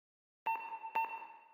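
A rotary phone in the video game Voices of the Void gives two bright, clean bell-like rings about half a second apart, each ringing on and fading with no talk.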